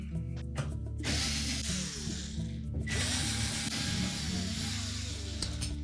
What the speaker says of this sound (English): we'll remove 3 screws that secure the mounting bracket to the back wall